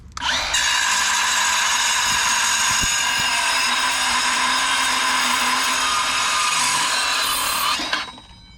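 Portable saw cutting through a chunk of one-inch number 8 rebar on a job site: a loud, steady high-pitched metallic whine and grind lasting about seven seconds, then winding down abruptly.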